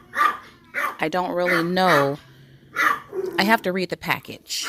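Household dogs barking near a person speaking in a home garden setting, with yips and barks mixed in and around ongoing talk.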